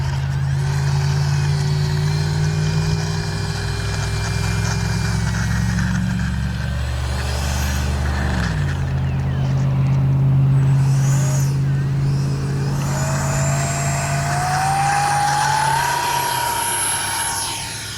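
An X-Fly Raptor twin 40mm electric ducted-fan RC F-22 model jet flies overhead, giving a continuous loud whine that rises and falls in pitch as it passes and turns.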